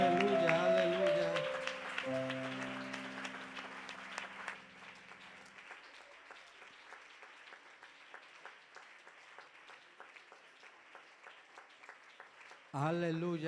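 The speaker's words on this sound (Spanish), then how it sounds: "Denle ese aplauso fuerte al Rey." An audience at a church service claps in steady applause, at first under sung and sustained voices. The clapping then carries on alone and fades gradually, and a voice returns loudly at the end.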